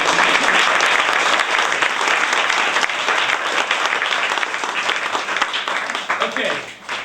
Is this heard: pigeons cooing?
no